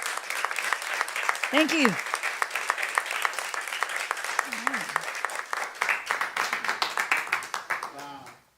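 A church congregation claps in sustained, even applause that fades out at the end, while a voice briefly speaks over it.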